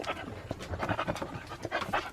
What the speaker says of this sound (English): This is my sister-in-law's dog.